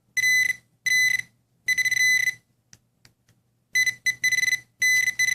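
A Garrett Pro pointer metal detector gives loud, piercing electronic beeps in bursts, several short pulses and longer runs separated by silent gaps, close and clear.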